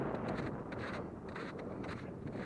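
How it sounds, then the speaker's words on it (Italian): Wind gusts across an open mountain trail near Monte Corno above Asiago, a dense, steady roar buffeting the microphone with pulsing surges throughout, no voices. "qui c'è più vento"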